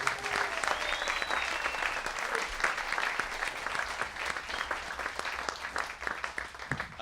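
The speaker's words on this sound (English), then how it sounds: "Could you give a big hand of applause to the volunteers?" An indoor audience at a jazz festival talk gives the volunteers a round of applause, a steady patter of many hands at moderate distance that tapers slightly near the end.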